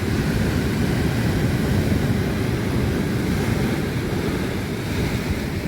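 Stormy sea waves surge up the shore in a continuous loud roar of surf, blended with heavy wind noise and no pause in the rush.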